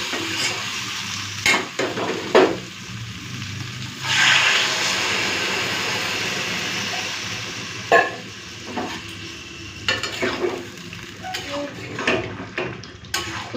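Egg, potato and soybean curry being sautéed in an iron wok: a continuous sizzle with scattered scraping and clinks of a spatula against the metal, recurring in short bursts.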